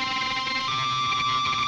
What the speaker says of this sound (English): here's a sub 37 running into distortion and like delay into an Axe FX